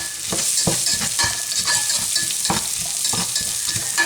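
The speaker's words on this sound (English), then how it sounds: "I've got 1 onion, peeled, sliced and diced here, and I'm just going to start to stir this now." Diced onion fries in a pan while being stirred, a loud continuous sizzle broken by repeated rhythmic scrapes and knocks of a utensil, with no voices.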